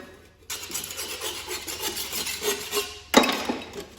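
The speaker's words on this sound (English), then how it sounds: "This is a mower deck scraper, and they're a little too flexible for me, but they're really great at getting into nooks and crannies of the mower deck" Metal scraper dragged across a rusty Craftsman lawn tractor mower deck, giving close, loud, uneven scraping and grinding strokes that start abruptly and continue in rough bursts, ending with a sharper clattering scrape, no voices.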